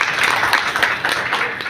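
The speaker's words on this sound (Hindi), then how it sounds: "मैं चाहूंगा ऐसे लीडरों के लिए जोरदार तालियां हो जाए।" Audience applause for leaders at a West Bengal state committee delegates' conference, a short, dense wash of hand clapping from a crowd, fairly loud and steady with no talking.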